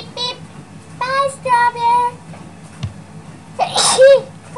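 A child-like cartoon character sneezes once, loud and close, after a few short squeaky high-pitched voiced sounds.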